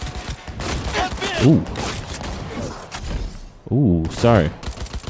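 Bursts of gunfire in the open-world game Cyberpunk 2077, sharp clustered shots with mechanical clatter scattered through a short stretch, mixed with spoken voices and game dialogue.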